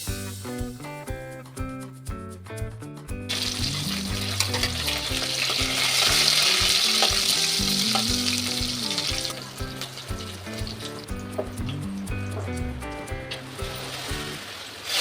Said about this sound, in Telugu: తాలింపు పెడుతున్నానండి.